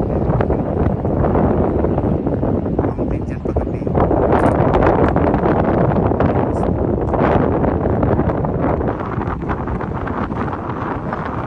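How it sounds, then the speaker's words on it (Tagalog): Strong seaside wind at the Al Kout Mall waterfront in Fahaheel, Kuwait, overlooking moored yachts, roaring loudly and continuously against the microphone with dense rumbling gusts from start to finish. "Malakas ang hangin."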